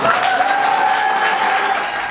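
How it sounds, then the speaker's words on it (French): A crowd at a formal ceremony claps in a dense, steady round of applause, loud and close throughout with no pauses. "Salve d'applaudissements, photos des familles."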